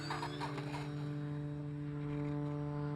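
An FMS Sky Trainer 182 Cessna RC model plane takes off in the evening, its electric motor and propeller giving a steady, loud whine with strong harmonic tones that hold even throughout.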